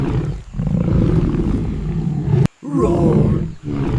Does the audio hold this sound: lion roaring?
yes